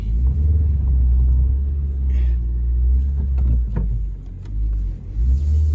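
A Suzuki SX4 car engine rumbles loudly and low from inside the car on a snowy test drive. The engine note rises and dips as the car pulls away, with some faint clatter and no clear speech.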